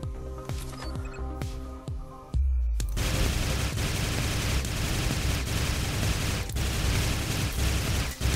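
Gunfire in the video game Sanctum, with sharp repeated shots over a tonal game soundtrack, then a dense sustained barrage of rapid loud bursts that continues to the end.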